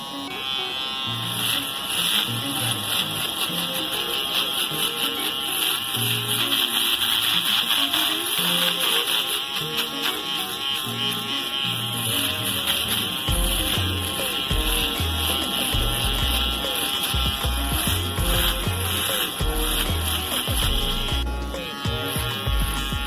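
A small Office Shaver Mega mini electric shaver runs with a steady, loud buzzing hum throughout, held close, with occasional tapping and handling bumps toward the end.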